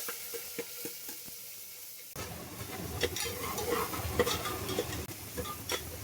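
Onion and tomato going into a pan of hot oil: a few quiet clicks, then a sudden rise into a steady sizzle with crackles and stirring scrapes, close by and without talk.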